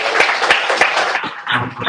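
A short burst of applause from an audience at a music industry panel event, loud and close with a few distinct claps standing out, fading slightly toward the end.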